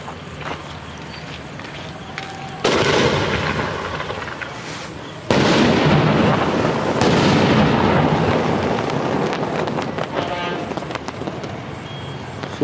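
A 3.5 double ball aerial firework sample launches and bursts in two loud, sudden blasts a few seconds apart, each followed by a long, crackling, hissing wash of sound that slowly fades.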